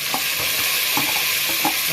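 Onions sizzle in hot oil for chicken biryani, a dense, steady close frying hiss with a few soft stirring knocks, no talking.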